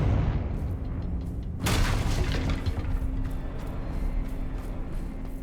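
A Confringo spell blast in Hogwarts Legacy lands as a single sudden, sharp burst over a dense, steady rumbling game soundscape, with no talk during the blast.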